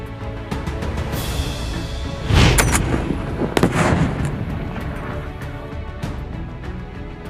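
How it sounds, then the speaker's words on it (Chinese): A grenade from a sniper grenade launcher explodes inside a closed concrete bunker, a loud heavy blast near the middle with sharp cracks before and after it over constant background noise. "在碉堡封闭空间内，瞬时产生的爆炸效果十分惊人"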